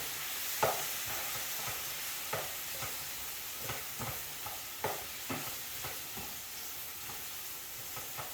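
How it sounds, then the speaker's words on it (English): Thai drunken noodles sizzle softly in a pan over reduced heat, with repeated spatula scrapes and stirring knocks at an uneven pace, close but fairly quiet. "Go ahead and reduce the heat down. Stir this accordingly."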